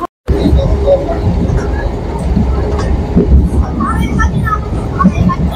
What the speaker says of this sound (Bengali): এখন সবে ট্রেনটা ঢুকলো